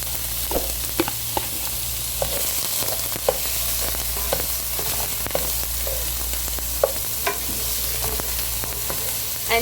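Onions soften in two tablespoons of oil in a pan for mutton lasagna, a constant low sizzle with occasional light clicks and scrapes of stirring over a steady background hum.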